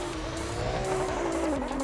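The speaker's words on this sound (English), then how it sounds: "Yeah, we were really curious what is going on with Patrick's car, because it sounds like what the hell is going on." A race car engine holds a high, droning whine, sustained and close, dipping slightly in pitch near the end.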